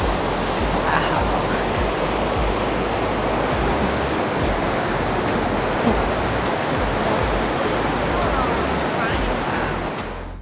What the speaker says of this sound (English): just made it to Yosemite Falls.